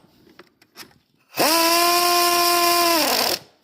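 Power tool tightening alternator bolts on a 2004 Ford Expedition, a loud steady whine lasting about two seconds after some faint handling clicks, then cutting off.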